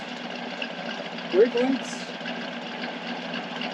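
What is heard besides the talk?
1966 Plymouth Barracuda 273 V8 engine idling through exhaust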